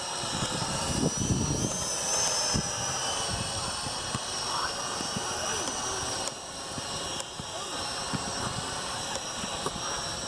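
A Venom Pro GPS quadcopter drone flies in a park on a windy day, its rotors producing a steady, close whining buzz with hiss and wind noise throughout.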